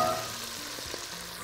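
Food sizzles and fries in a pan on the stove while a meat pie dough is prepared, a steady crackling hiss with a few soft clinks as it is stirred.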